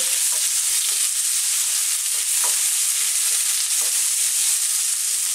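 Onion and chili frying in oil in a pan for sweet and sour tilapia: a loud, continuous hissing sizzle with occasional soft stirring scrapes, and no voice.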